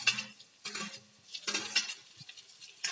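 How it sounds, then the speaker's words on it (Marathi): Finely chopped tomato going into a frying pan for dal pakwan, heard as a few short bursts of spatula scraping and light sizzling close by. "आता बारीक चिरलेला टोमॅटोही आपण त्यामध्ये टाकणार आहोत."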